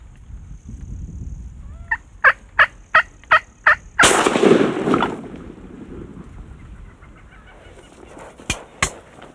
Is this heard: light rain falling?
no